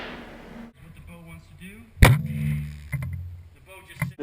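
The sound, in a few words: PSE Vendetta compound bow shooting an arrow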